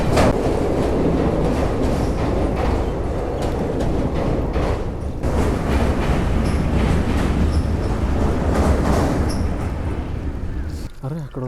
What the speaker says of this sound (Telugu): ఇప్పుడు మళ్ళీ ట్రైన్ వెళ్తుంది చూడండి.